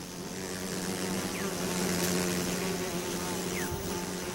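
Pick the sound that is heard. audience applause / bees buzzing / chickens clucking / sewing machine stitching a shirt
bees buzzing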